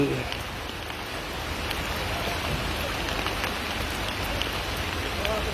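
Steady, dense roar of heavy downpour in Ünye, Turkey, constant and loud throughout, with faint voices underneath.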